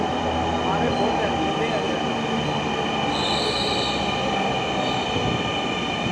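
A metro train in Dhaka, Bangladesh runs steadily with a loud continuous rumble and rail hiss, a brief high wheel squeal rising midway.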